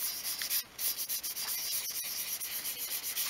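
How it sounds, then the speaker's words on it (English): Shoe polish is rubbed into a small 1/12 scale wooden crate, a steady, close, hissy scrubbing in rhythmic strokes that continues with brief pauses throughout. "is to stain it using shoe polish. And that just gives it a lighter sort of wood look. And you're just rubbing that in."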